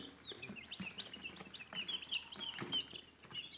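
Sussex chicks cheep in a continuous chorus of high, thin peeps, fairly quiet, with faint rustling beneath.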